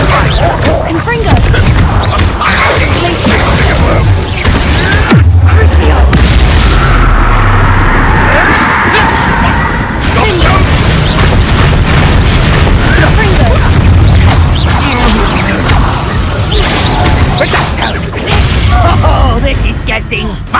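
Repeated heavy booming blasts from the Confringo fire spell in the video game Hogwarts Legacy, loud and dense with crackling bursts over about twenty seconds, mixed with game effects and occasional voices.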